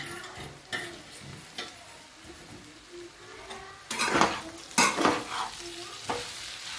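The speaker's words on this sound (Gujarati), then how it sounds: "સરસ બધું હલાવી લઈએ" A utensil stirs food in a hot frying pan over a steady sizzle, with several sharp scrapes and clinks against the pan near the end. The sound is close and there is no talking.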